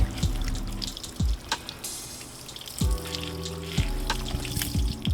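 Water pours and sheets off ceramic-coated car paint in the sun, a close, steady splashing trickle with broken low rumbles from the stream hitting the panel; no one speaks.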